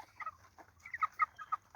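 Several meat chickens raised on a no-dig garden plot cluck in a run of short, soft bursts, some quick and overlapping, against a low steady background hum.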